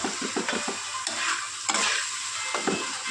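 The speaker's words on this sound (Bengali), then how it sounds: "এটা এখন কষানো হবে।" Fish curry with tomato being sautéed in a pan, a continuous hissing sizzle broken by rhythmic scraping stirs of a spatula against the pan, fairly quiet and close with no talking.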